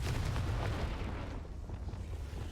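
Confringo explosive spell cast in Hogwarts Legacy, a loud rumbling blast whose low boom and crackle fade over a couple of seconds, with no voice over it.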